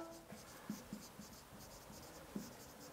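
Chalk or marker scratching across a classroom board as a French teacher writes out a verb, a few soft strokes with small bumps at the start and near the end, quiet and close, with no voices.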